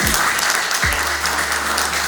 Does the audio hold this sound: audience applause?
yes